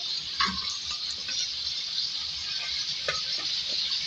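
Two medium onions fry in oil in a pot, giving a faint, steady hiss with a few soft stirring clicks scattered through.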